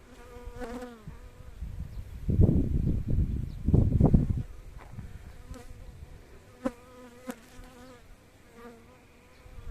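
Honey bees buzzing around a beehive being tended outdoors, with steady insect hum and a louder rustling, handling burst midway, then scattered brief knocks and clicks over the buzzing.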